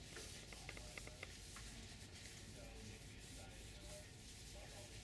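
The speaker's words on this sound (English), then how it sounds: "put that lotion on Sydney's back" Steady, continuous rubbing of lotion onto a patient's back during a bed bath, a soft close swishing that holds at an even level throughout with no pauses.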